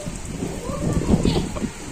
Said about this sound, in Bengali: সে বৃষ্টি দেখতে পাচ্ছেন